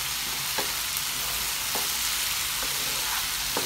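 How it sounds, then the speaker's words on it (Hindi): Fried chicken pieces being stirred in a hot pan for kung pao chicken give a continuous hissing sizzle, broken by regular soft scrapes of the spatula about once a second, with no talk. "बहुत अच्छे से स्टर करते जाएंगे कम से कम 2 मिनट के लिए"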